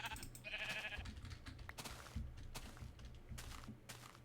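Minecraft sheep bleating several times in short separated calls amid soft game ambience and occasional thuds, no speech.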